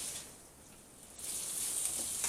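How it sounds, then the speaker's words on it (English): Duck pieces starting to fry in a few tablespoons of oil in a pan, a soft sizzle that grows louder and brighter partway through and then holds steady, with no talking. "Mix that around so it all gets coated in the oil, and then it'll start frying."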